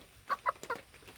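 A six-month-old pet rooster gives three short, quiet clucks in quick succession, faint against a calm background.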